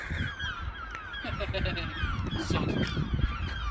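Gulls calling around rooftops in Worthing, a series of harsh honking cries at moderate distance over background noise, with some voices nearby.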